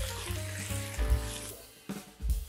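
Cabbage and fried dried shrimp are tossed in a hot wok with a splash of water, giving a steady sizzle broken by quick bursts of scraping and stirring and a short watery hiss.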